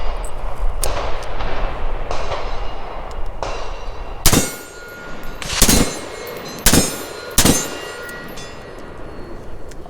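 Four sharp, loud gunshots from a PSA JAKL rifle, spaced a second or two apart, each a hard crack with a ringing tail over steady outdoor background noise.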